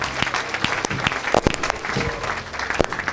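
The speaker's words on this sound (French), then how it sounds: "Donne-lui une grande acclamation" Applause with scattered cheers from a church congregation during a French-language deliverance service, loud and dense with sharp individual claps and a few whoops poking through the steady roar of the crowd.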